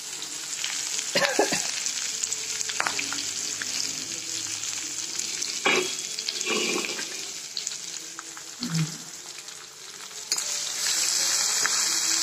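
Chopped onion frying in a little oil in a pan, a steady close sizzle throughout with occasional stirring scrapes and clinks, no talking.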